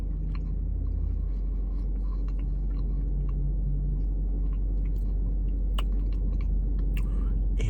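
Close-up chewing of a soft Crumbl cookie, with faint moist crunches and clicks over a constant low hum.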